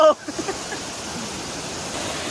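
Kulen Mountain waterfall in Cambodia pours with a steady, loud broadband rush of falling water, continuous throughout after a brief opening sound.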